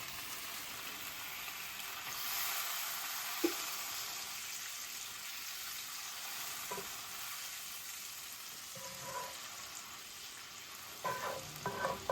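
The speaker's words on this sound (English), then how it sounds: "I'm gonna melt a little bit of butter in here though." Butter sizzling and melting in a pan while pork tenderloin and Brussels sprouts cook, a steady soft crackling hiss throughout with a few faint utensil knocks near the end.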